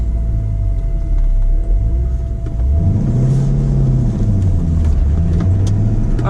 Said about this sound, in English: Okay, so that was a not so cold start because I've already driven the car.